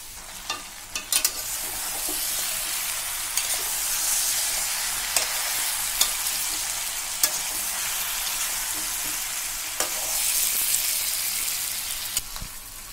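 Bhetki (barramundi) fish bones sautéing in a pan for a Bengali dish, a steady close sizzle and hiss of frying oil with occasional sharp clicks of stirring, continuing for about thirteen seconds without talk.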